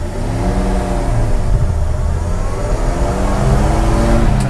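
A 1952 Studebaker 2R5 pickup truck engine pulls loud and close as it accelerates through the gears, its rising drone swelling and resetting with each shift.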